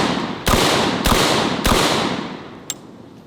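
Typhoon F12 12-gauge shotgun firing at targets on a table: three loud, sharp blasts in quick succession at roughly half-second intervals, each trailing into a sustained echo, followed by a small clink.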